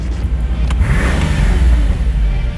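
A 2006 Mercedes SL65 AMG held against its rev limiter while in park, giving a loud, close, continuous engine roar with a steady low rumble and no voices.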